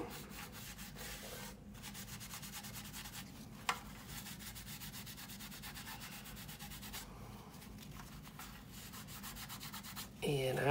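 A cotton swab soaked in alcohol rubs paint off a 1/32 scale B-25 Mitchell plastic model kit, giving a faint, continuous close scratchy scrubbing with small pauses and one brief tap.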